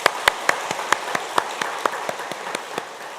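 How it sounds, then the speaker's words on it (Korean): A church congregation at a Sunday worship service claps together in a steady unison rhythm, sharp claps landing roughly four times a second at an even pace, clear and fairly close. "다시 한번 우리 박수로 격려하겠습니다."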